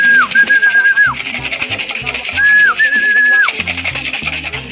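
Pigeons in a racing loft coo and call close by, with rhythmic low coos repeating throughout and two brief whistling sounds overhead, a voice talking faintly underneath.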